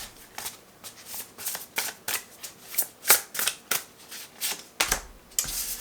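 Close-up, a tarot deck is shuffled by hand: crisp, papery riffles and flicks in quick uneven bursts, soft and alone.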